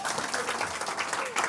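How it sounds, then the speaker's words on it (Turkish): Audience applause at a quiz night, a brief, steady burst of many hands clapping throughout, with some voices mixed into the crowd noise. "Sizi de bir alkışlayalım."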